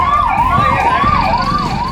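Fire engine sirens arrive at a factory fire, wailing loud and close with rapid rising-and-falling sweeps repeating steadily over low traffic rumble.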